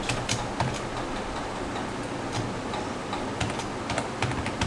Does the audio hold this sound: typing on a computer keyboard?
yes